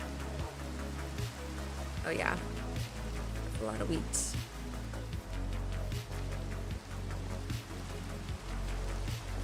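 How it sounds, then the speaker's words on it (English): Steady rain falling in a Minecraft-style video game, a continuous close patter under soft ambient music while a person talks over it. "The rain is very pretty, you guys. I love the sound. It sounds like real rain."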